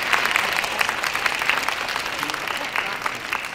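A crowd at a town event applauds a junior and senior high school brass band after its performance, a sustained, fairly loud patter of many hands clapping with no voices over it.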